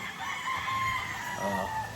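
A claret gamefowl broodcock crows at close range, one drawn-out call filling the moment against a steady farmyard background.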